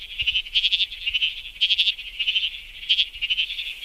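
A tiny bleating froglet calls in quick, sheep-like bleats, repeated in short pulsing bursts, close and clear with nothing else heard.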